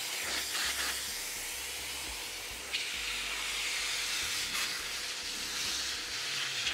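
A blower dries a car after a wash, giving a steady broad airy hiss throughout with a few brief surges of louder rushing air.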